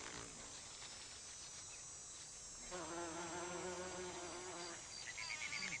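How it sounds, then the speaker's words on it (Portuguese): Bumblebee buzzing steadily close by as it forces its way into a narrow bottle-shaped gentian flower, with the wingbeat drone growing stronger and more tonal partway through. "Apenas os mamangais têm o poder muscular de abrir a boca da flor e forçar sua entrada para pegar o néctar."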